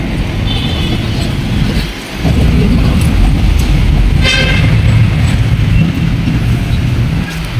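An LRT light rail train rumbles loudly and continuously, with a short dip in the noise partway through and a brief horn-like toot later.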